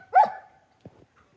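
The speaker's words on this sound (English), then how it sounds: "Why is he barking?" One sharp, close dog bark, followed by a short pause and a couple of faint, soft sounds in an otherwise quiet space.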